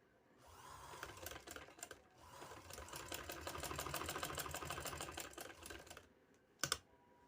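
A sewing machine stitches trouser fabric in a steady rapid run of mechanical clatter that builds and holds for several seconds, then stops, followed by a brief sharp knock, all close and fairly quiet with no talking.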